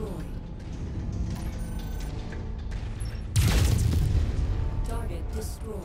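A heavy AC-10 autocannon shot booms out in a MechWarrior 5 mech battle, one loud close blast bursting over a steady din of game noise and engine rumble.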